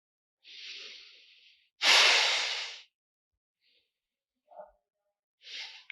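During a yoga stretch, a person breathes slowly and closely: a long airy inhale, a stronger rushing exhale, then a few softer, shorter breaths separated by silence.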